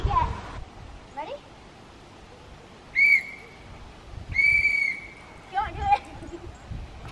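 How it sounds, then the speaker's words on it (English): A whistle is blown right at a goat inside a goat barn: two loud, sustained shrill blasts, each about a second long, with laughing voices and chatter before and after. "She doesn't like you blowing the whistle in her face."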